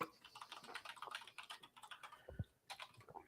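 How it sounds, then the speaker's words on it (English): Rapid typing on a computer keyboard, close and fairly quiet, with dense irregular key clicks and a few brief pauses, heard alone without talk. "look at my typing."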